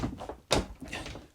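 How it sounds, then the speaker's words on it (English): A motorhome bathroom door swings shut and snaps onto its magnetic catch, giving one firm, close thunk that quickly fades into quiet room noise, with no talking over it. "I think they're making that magnetic catch even stronger. But there we go, door closed."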